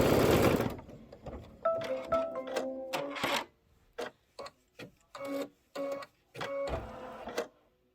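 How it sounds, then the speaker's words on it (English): A sewing machine winding white thread onto a bobbin, whirring in several short bursts with brief pauses between them, close and clear. "Just winding up my white thread."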